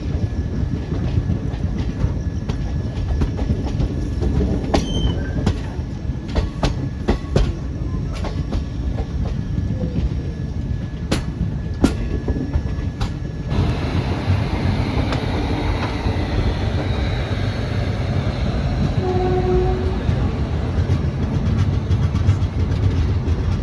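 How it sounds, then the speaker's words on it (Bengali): Passenger train rolling into Chhapra Junction in Bihar, heard from on board as a loud steady rumble with rhythmic clicks and clanks, a few squeals, and the tone easing partway through as it slows. "আমরা এখন এসে পৌঁছালাম বিহার রাজ্যের একটা খুব গুরুত্বপূর্ণ রেলওয়ে স্টেশন, যার নাম হচ্ছে ছাপরা জংশন।"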